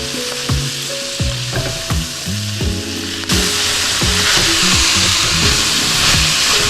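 Bok choy fries in a hot pan alongside prawns, a close, loud sizzle with repeated tossing and scraping clatters; the hiss swells sharply midway as the greens hit the heat, no voices.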